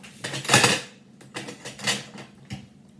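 A wooden spoon set down across a saucepan in a home kitchen, giving a few close knocks and clatters of wood on metal, with a main clunk early and lighter taps after.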